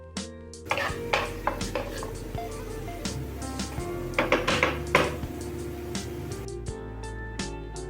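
Ground masala being stirred into sautéed onions and mustard seeds in a pan for a South Indian egg roast: a steady run of scraping and clinking of a spoon against metal, with a low frying hiss beneath and soft taps throughout.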